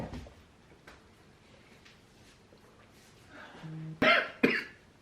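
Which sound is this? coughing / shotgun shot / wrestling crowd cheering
coughing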